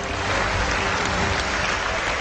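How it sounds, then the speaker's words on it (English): Parliament chamber applause, a steady, dense wash of clapping from many members, loud and continuous without a break. "that's the first time I've ever received such applause"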